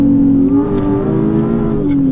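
A Nissan 370Z sports car engine revs and pulls hard, a steady throaty drone rising in pitch as it accelerates, heard close from inside or near the car.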